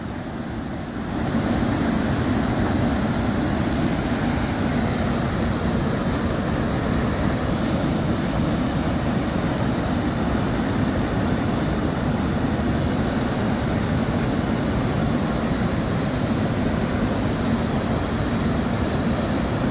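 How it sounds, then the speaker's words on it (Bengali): Strong current of floodwater rushes past at Farakka as a loud, continuous broadband roar with steady wind-like noise and no pauses. "আজকে জলের ব্যাপক স্রোত আপনারা লক্ষ্য করতে পারছেন।"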